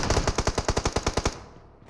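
A burst of rapid automatic gunfire from a shooter video game, around a dozen evenly spaced, punchy shots over about a second and a quarter before fading into a short tail, loud and close with no speech.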